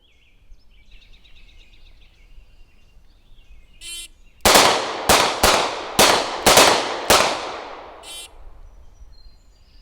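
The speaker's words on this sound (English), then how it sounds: "let's look at the video clips of these two being fired head to head, starting out with the 940 and the Hellcat" Two handguns, a 940 and a Hellcat, fire head to head: a single early report, then a rapid string of about seven loud, sharp shots in close succession, each ringing out briefly, with light background noise before.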